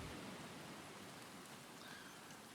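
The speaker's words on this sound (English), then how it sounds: "Here comes the rain." Rain pours steadily in the survival game Stranded Deep, a faint, even hiss of falling water with no breaks, heard alone without voices.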